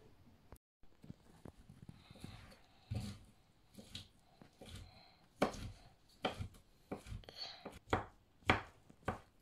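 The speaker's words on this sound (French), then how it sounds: "quand ils sont bien nettoyés, on va les couper en morceaux puis on va les faire cuire" Cleaned wild hedgehog mushrooms are chopped into pieces with a knife on a board, a series of sharp, irregular taps that grow quicker and louder, close by with no talk.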